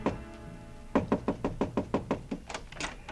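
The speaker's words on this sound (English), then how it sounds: "I stopped in front of room 300 and knocked" Knuckles knock on a hotel room door, about ten quick, evenly spaced raps in a steady burst, close and fairly loud, with no talking.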